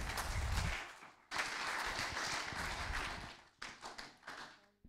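A church congregation claps and applauds, a close burst of dense clapping that cuts off, then returns as a sustained round before fading into scattered, uneven claps.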